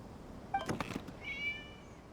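A single short cat meow in the video game Genshin Impact sounds against a quiet background, followed by a faint high tone.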